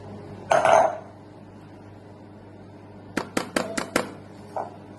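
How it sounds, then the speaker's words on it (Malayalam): A cake tin lined with butter paper and filled with oats batter is tapped against a surface, giving one heavy knock followed by a quick run of five sharp taps and a softer final bump. "ഇതൊന്ന് തട്ടിക്കൊടുക്കാം. എയർ ബബിൾസ് അങ്ങ് വെക്കും."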